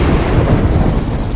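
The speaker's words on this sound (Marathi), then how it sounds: "बाहेर विजांचा कडकडाट सुरू झाला" Thunder rumbles through a stormy night with rain falling, a loud, deep, rolling boom that fills the moment and stays heavy throughout this short burst, with no voices.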